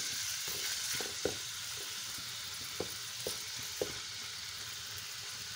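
Chicken cooking slowly in a pan over low heat, a faint continuous frying sizzle with a few soft clicks of a utensil spaced through it.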